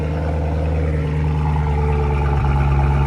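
A Chevrolet Corvette C7 Z06 engine idles loudly and steadily up close after sitting unused in a warehouse, giving a deep, even rumble with a brief dip in pitch partway through.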